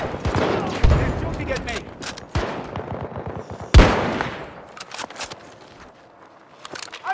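Rapid gunfire in Battlefield 2042: a loud close burst near the start, then scattered shots and a sharp heavy blast, with faint metallic clinks and brief voices between them.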